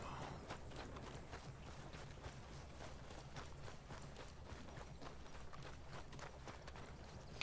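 Horse hooves in Red Dead Redemption, a quiet, even clip-clop of a trotting gait repeating steadily over a low background rumble, no voices.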